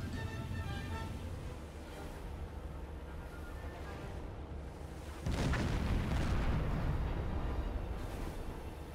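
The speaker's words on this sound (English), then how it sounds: "Ooh, an explosion!" A deep, rumbling boom from an explosion in the submarine video game Silent Hunter 4 erupts midway through a steady low background roar, its rough wash of noise lingering for several seconds.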